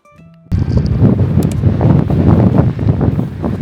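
Strong wind gusting over loose, fine powder snow in the Alberta Rockies, a steady broadband roar with rustling bursts that starts abruptly and stays loud and close to the microphone.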